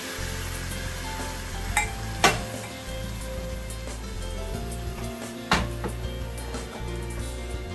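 Sizzling in a pan while crushed or diced tomatoes are added for a plant-based meatloaf, a steady fry broken by a few sharp clinks and scrapes of a utensil against the pan, close and clear, with no talking.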